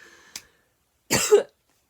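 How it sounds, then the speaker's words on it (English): One short, harsh cough close to the microphone, preceded by a tiny click and followed by silence. "I just coughed."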